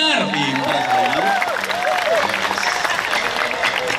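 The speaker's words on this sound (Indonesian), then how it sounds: "Tepuk tangan untuk Akbar" An audience at a live religious gathering breaks into applause, a dense wash of clapping under a voice that sings and talks over it, fairly loud and close.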